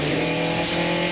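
Spec Racer Ford race cars in the 1997 SRF Pro race at St. Petersburg, engines droning steadily in a loud, continuous whine as the field passes closely, with tire noise blended in.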